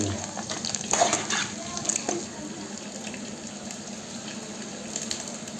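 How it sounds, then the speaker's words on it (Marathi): Skin and fat from a country chicken fry in a pan with a continuous close hissing sizzle, louder bursts near the start, then a steady even crackle, with no voices. "आणि हे त्याच्यावरती स्किन आहे चरबी आपण थोडी तळून घेतो आहे ते"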